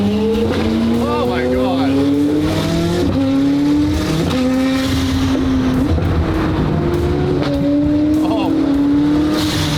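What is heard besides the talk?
straight-piped McLaren Senna hypercar exhaust revving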